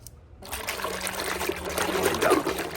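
Warm water with shampoo trickles and pours steadily into a basin for a home pedicure, a close continuous splashing flow that starts abruptly and grows slightly louder.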